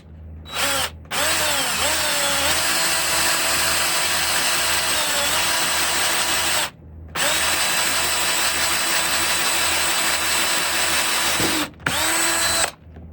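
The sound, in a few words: hand drill drilling through wood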